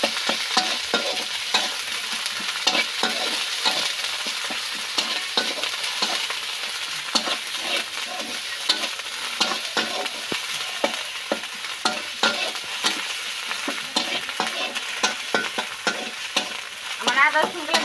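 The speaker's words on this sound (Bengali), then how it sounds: "এখন আদা রসুন বাটা দিয়ে দিব। আদা রসুন গুলো সুন্দর করে ভেজে দিব" Ginger-garlic paste sizzles and fries with onions in a pan, a continuous crackling hiss broken by repeated scraping stir strokes, with no voices.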